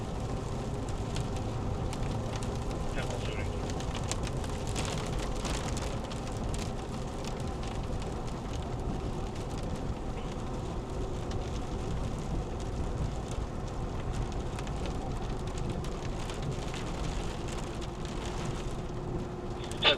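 Steady rain drums on a car during a severe Wisconsin thunderstorm, a dense continuous patter close around the listener for the whole stretch, with no voices.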